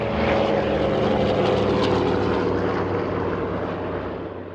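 The C-47 Miss Montana flies with both rebuilt piston engines droning, a loud, steady propeller roar that stays near and continuous, easing slightly toward the end with no voices.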